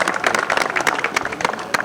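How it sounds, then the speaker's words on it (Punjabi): An audience at a village fair in Lohara, Moga, breaks into dense, brisk applause, a close, busy patter of many hands with crowd noise mixed in throughout the short burst. "ਤਾੜੀਆਂ ਮਾਰ ਦਿਓ ਵੀ"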